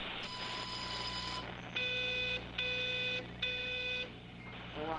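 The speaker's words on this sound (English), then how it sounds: "Right, there's a phone going." A phone in the game Everybody's Gone To The Rapture rings in repeated electronic bursts, three even trills with short gaps between them, heard over a low steady background hum.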